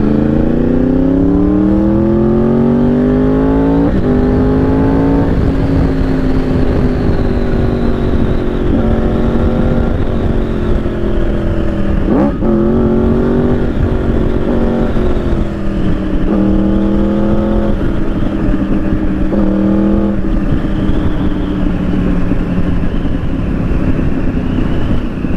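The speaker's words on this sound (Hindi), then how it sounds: "क्रूज मोड मस्त, बहुत बढ़िया क्रूज मोड क्योंकि इसका तो थ्रॉटल लॉक हो गया" A Yamaha R1 superbike cruises with its throttle locked in cruise mode, producing a loud, steady engine drone that drifts only slightly in pitch. Heavy wind rush buffets the microphone throughout.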